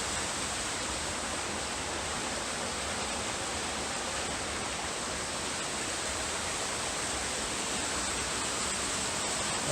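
A creek flowing through the woods makes a dense, constant rushing roar, loud and close, with no pauses and no voices.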